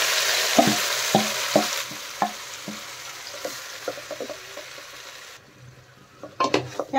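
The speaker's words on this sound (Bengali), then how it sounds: "এখন নেড়ে চেড়ে সবজি ভালো করে কষিয়ে নেব" Marinated vegetables for a vegetable paneer biryani stir-fried in a pot over whole cumin, rhythmic scraping and clinking of a metal spatula against the pan over a steady sizzle that quiets, then sharper clanks near the end.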